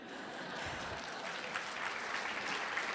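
Listeners at a 2017 diocesan convention keynote break into a brief patch of clapping. The applause sounds soft and distant, with a continuous rustling texture throughout.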